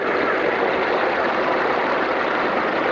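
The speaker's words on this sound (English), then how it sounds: "Lovely tractor, eh? Little D2. See her all painted up in the Army colours here." A little ex-Army D2 tractor, painted in Army colours, runs at a grand parade, its engine a loud, steady, unbroken rumble throughout.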